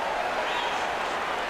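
Steady, continuous murmur of a capacity arena crowd in the boxing video game Undisputed before a match, an even wash of cheering and chatter with no distinct peaks.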